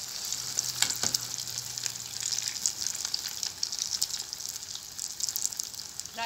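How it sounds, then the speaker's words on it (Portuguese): Close, steady sizzling and crackling of vegan kibbeh frying in hot oil, continuous and bright, with a brief clink near the start and a short spoken word. "fritando os quibes junto aí"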